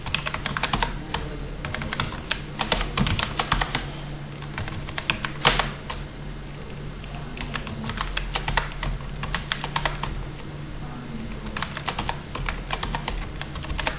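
Course names are typed into an Excel sheet on a computer keyboard, with quick irregular key clicks in bursts and short pauses, close to the microphone over a faint steady hum.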